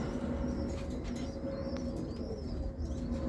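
Roller pigeons coo in a loft, soft repeated throaty coos with a few faint chirps against a steady background hum, close and unaccompanied by talk.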